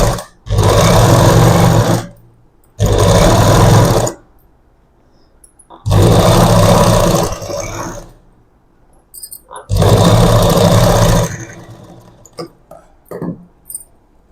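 A sewing machine stitching a double seam on puff sleeves, running in four loud bursts of a few seconds each with short quiet pauses between them, close up and with no one talking.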